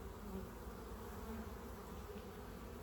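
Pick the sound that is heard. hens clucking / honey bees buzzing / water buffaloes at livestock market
honey bees buzzing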